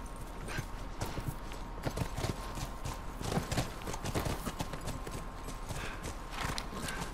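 Horse hooves clip-clop in The Last of Us Remastered, a steady walking gait over a constant background ambience, with an occasional whinny and no talking.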